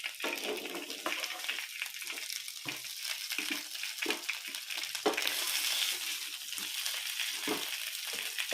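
Chicken fries in a pan with a bright, continuous sizzling hiss, broken by uneven bursts and scrapes as pieces are moved around, close and fairly loud with no talking.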